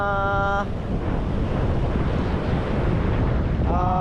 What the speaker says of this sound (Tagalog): Lakas ng alon mga kaibigan